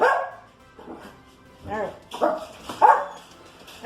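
A dog named Knuckles lets out several short, sharp indoor barks, spaced irregularly and at moderate loudness, while a person speaks briefly in between.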